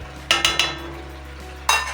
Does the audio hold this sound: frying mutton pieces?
yes